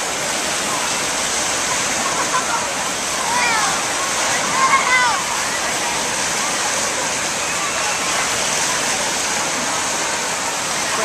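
Water in the wave pool at Blizzard Beach water park rushes and splashes as a steady, loud wash, with faint voices and distant chatter mixed in.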